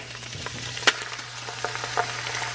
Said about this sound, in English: take our diced tomatoes, and you're gonna dump the whole can in there